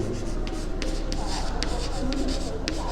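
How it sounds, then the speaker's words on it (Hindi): Marker or chalk strokes on a classroom board during a maths lesson, a continuous scratchy rubbing with short bursts, close by and steady. "मैं लिखता हूँ"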